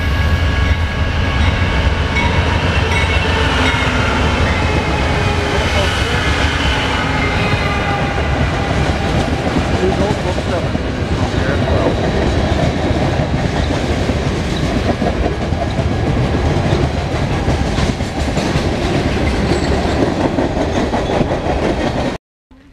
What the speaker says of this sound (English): Here we have a Santa Fe, or should I say, BNSF freight coming through Flagstaff